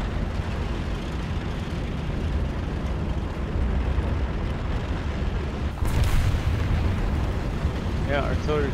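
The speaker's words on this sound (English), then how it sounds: "Yeah, artillery's coming." Distant artillery explosions rumbling in an online shooter, a low continuous booming wash with a sharper blast near the end, while players chat over it.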